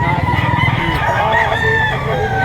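Chickens being sold cheaply in Lipa, with a rooster crowing in drawn-out, harmonic calls over steady clucking and low background bustle.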